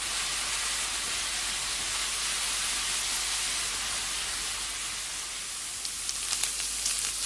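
Onions frying in a pan until golden, a steady bright sizzle and hiss that holds evenly throughout, with a few faint clicks near the end.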